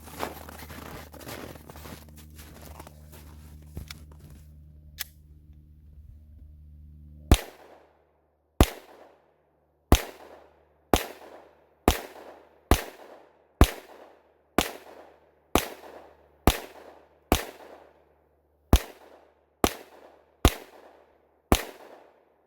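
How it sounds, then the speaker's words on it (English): Sixteen sharp gunshots from a Glock 20 Gen5 pistol firing 200 grain hard cast rounds, loud and close, spaced evenly about a second apart, each with a short ringing decay, after a stretch of low mechanical noise. "200 grain hard cast Glock Model 20 Generation 5"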